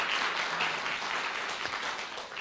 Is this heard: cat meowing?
no